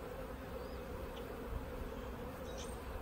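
Honeybees buzz around an open hive in early spring, a steady, soft, close droning hum with occasional louder passes from individual bees and no talking.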